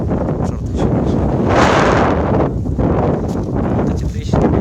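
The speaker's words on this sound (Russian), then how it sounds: "Ветер дует, как солнце греет." Wind gusts across the microphone on the rocky Qeshm Island coast, a loud roaring rumble that surges and eases in waves, continuous with no clear voices.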